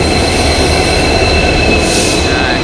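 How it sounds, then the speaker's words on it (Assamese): A passenger train pulls into a station on the way to Tinsukia, its loud rolling rumble of wagons steady throughout, with a bright metallic wheel squeal rising briefly near the end; no talking. "ট্ৰেইনখন আহি পাই গ'লহি।"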